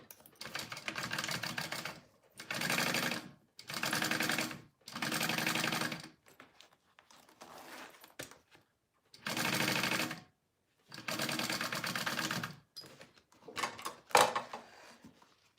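A sewing machine bastes a piece onto a fabric wristlet in close, loud runs of rapid stitching that start and stop repeatedly, with quiet handling between bursts.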